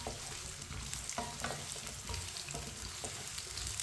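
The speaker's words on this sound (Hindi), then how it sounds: "2 मिनट के लिए हम इसे फ्राई कर लेंगे" Potato and eggplant pieces for aloo baingan sizzle and crackle steadily in a pan, with occasional stirring scrapes, close and fairly quiet.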